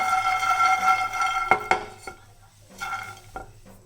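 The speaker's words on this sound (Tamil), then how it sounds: "இந்த பேனில் போட்டு நல்லா நம்ம வறுத்துக்கலாம். இதை நல்லா கொஞ்சம் நல்லா வறுப்படணும் இந்த வேர்க்கடலை." Peanuts roasting in a pan, stirred with clinks and scrapes of a utensil against the metal over a soft background hum, close and moderately loud.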